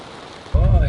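Rain suddenly starts pattering on a boat, a dense loud hiss and patter that bursts in partway through after a quieter stretch.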